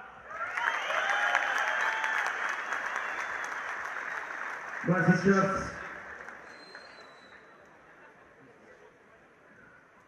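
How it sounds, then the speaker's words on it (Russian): Crowd applause at the opening ceremony of a professional fighting event, a sustained wash of clapping that swells and then fades away, with someone speaking over it through a PA. "под ваши аплодисменты"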